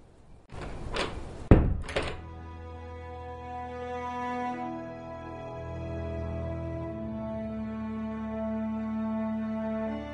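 A locked door in the video game A Darker Shade of Red is tried: a couple of sharp rattling thunks up close, then a low sustained musical drone rings on alone.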